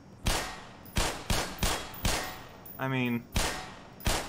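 A turret firing in Black Mesa: seven sharp, metallic, ringing shots about half a second apart, close and loud, with a brief tonal game sound and a short spoken phrase between them.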